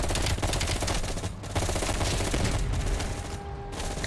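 Sustained automatic gunfire rattles from Call of Duty: Black Ops Cold War campaign gameplay, dense and loud, with rapid machine-gun bursts running almost continuously over several seconds.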